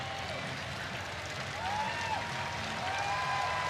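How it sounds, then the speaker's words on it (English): Philippine national team fans applauding at a FIBA Asia Cup basketball quarter-final against Australia, a steady wash of clapping and crowd noise filling the arena, with a commentator's voice talking over it. "Gilas fans applauding their national team."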